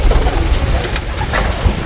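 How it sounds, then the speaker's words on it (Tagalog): Soft pigeon coos blend into a dense, steady wash of outdoor ambience, with no voices. "Ang dami nating kalapati."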